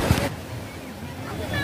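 Sea waves washing in at Corbyn's Cove Beach in Port Blair at low tide, a soft broad wash with wind buffeting the microphone, brief and fairly close.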